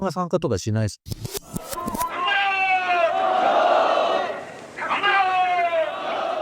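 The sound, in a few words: clamorous left-wing protest crowd in Japan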